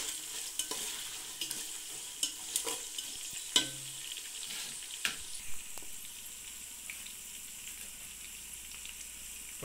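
Onion pieces and green chilli pieces frying in a pan for wheat rava upma: a soft, steady sizzle broken by irregular clinks and scrapes of a stirring spoon, fairly quiet and with no talk.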